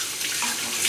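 Water runs steadily from a kitchen tap into a sink while hardboiled eggs are being peeled, a close, continuous hiss and splash with no talking.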